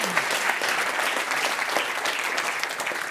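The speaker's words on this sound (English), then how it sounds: "Can we give him a round of applause, ladies and gentlemen?" A full room at a Eurometaux conference applauds a presenter, with dense, steady clapping from many hands holding an even level for a few seconds.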